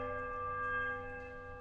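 A mournful bell chime rings in the Pillars of Eternity game, a faint sustained metallic tone with steady, lingering overtones and no voices.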